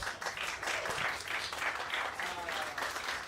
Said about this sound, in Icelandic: Simon og Gabriel, gefið þeim gott klapp.